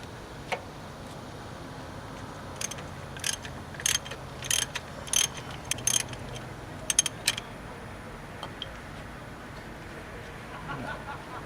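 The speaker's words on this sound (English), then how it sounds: "Alright, at that point, ratchet it off." A ratchet with a 27mm socket loosening the oil sending unit on a Jeep: bursts of quick clicking pawl ticks, several separate runs, close and crisp over a quiet background hum.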